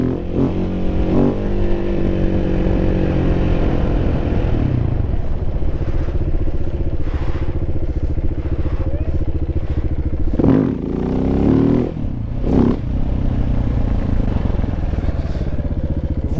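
A KTM 690 SMCR single-cylinder motorcycle engine runs continuously while the rider holds a wheelie, with a steady throbbing idle-like drone, a few sharp blips and clattering bursts near the end, loud and close.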